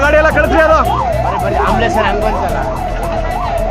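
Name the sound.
ambulance siren at highway accident scene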